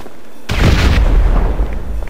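A heavy in-game explosion from GTA 5 Online bursts in after a short quiet, a deep booming blast that rumbles and decays over about two seconds, loud and close.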